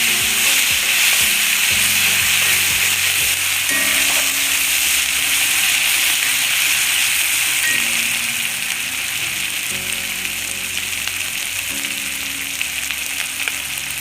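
Breadfruit slices stir-fried with pepper powder hiss in a constant loud sizzle with the low rumble of a burner beneath, while a spatula turns them now and then; nobody speaks.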